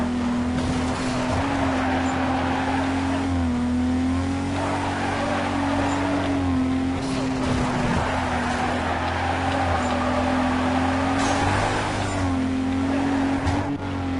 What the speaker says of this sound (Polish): O, dawno nie driftowałem na tym silniku.